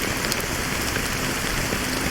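Steady, dense rainfall in Honkai: Star Rail, a continuous loud hiss of drops pattering on surfaces with no gaps and no voices.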